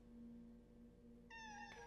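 A demonic cat from an audio drama lets out one short, clear meow toward the end, rising above a quiet, humming background.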